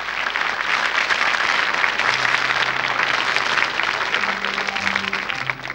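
Sustained applause from a large 1981 French television studio audience, steady and dense clapping throughout with no voices over it.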